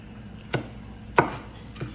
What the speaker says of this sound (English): Just running the knife through them